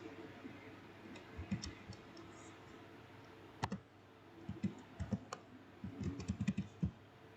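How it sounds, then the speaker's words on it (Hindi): Someone types a one-time passcode on a computer keyboard during an online application: scattered bursts of quick keystroke clicks at low volume, with one sharper click partway through and no speech. "चलिए हम ओटीपी एंटर करते हैं।"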